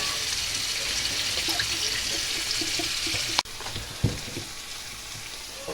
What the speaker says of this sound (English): So we'll just let the water out of here.